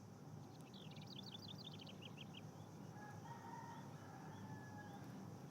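Ambient birds in the game Counter-Strike: a faint rooster-like crowing and a run of quick chirps sit over a dense, constant bed of background noise.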